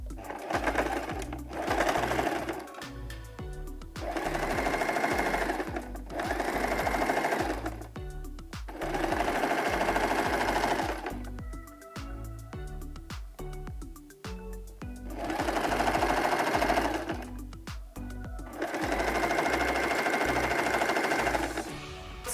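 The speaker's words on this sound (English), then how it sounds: "the final step is to run a straight stitch down this way, across, and all the way up" A sewing machine runs a straight stitch along a fabric tote bag, loud steady whirring in long runs of about two seconds separated by short pauses, with no voices over it.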